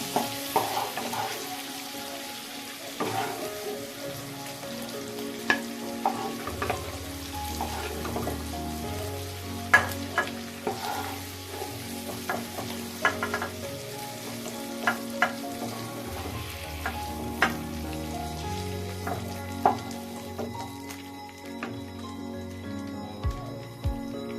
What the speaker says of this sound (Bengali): আমার পনির ভাজা হয়ে গেছে হালকা লাল করে